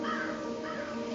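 Crows cawing in a short, steady burst of harsh calls, fairly close and clear with no talk over them.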